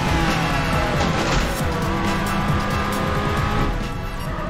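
A car in James Bond 007: Nightfire on GameCube surges under turbo boost, a loud continuous roar with rising whine and tire hiss filling the whole stretch, no voices over it.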